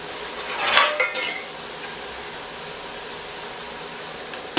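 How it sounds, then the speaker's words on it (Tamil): Crispy golden potato fry is lifted out of hot oil with a metal utensil, giving clinking scrapes against the pan over a low background sizzle. "எண்ணெய் இருத்துட்டு இதை மட்டும் எடுத்துக்கிறோம்."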